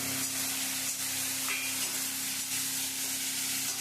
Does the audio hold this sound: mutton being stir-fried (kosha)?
yes